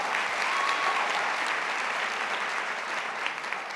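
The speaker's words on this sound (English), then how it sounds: "clap it up" Steady applause from a fan meet audience, dense and continuous with faint cheering mixed in, holding at an even level before easing slightly near the end.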